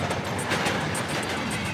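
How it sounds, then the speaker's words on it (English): An express passenger train runs along an old Ukrainian railway line in a dense, steady roar of wheels and rushing air, close and loud, with faint rhythmic clicks from the rails. "I could get on this nice express train that'll get me there in time for lunch"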